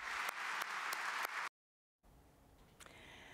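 Warm applause in Parliament, dense steady clapping for about a second and a half, then a cut to softer, quieter room sound with faint scattered claps.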